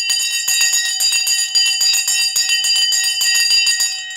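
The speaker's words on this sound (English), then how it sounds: "The bell has gone." Bell ringing rapidly and continuously, a bright metallic clanging with rapid repeated strikes, loud and close for several seconds before easing slightly, with no talk.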